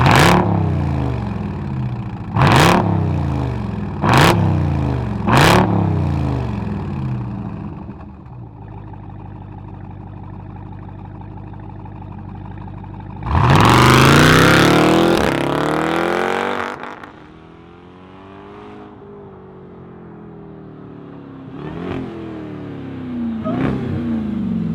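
A 2018 Jeep Grand Cherokee Trackhawk starts up close by, then its supercharged engine gives several sharp throttle blips, settles into a rumbling idle, and lets out a long loud rev before a few more short blips.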